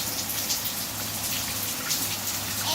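Steady rain falling outside by a porch, a constant close hiss of drops on surfaces with no voices.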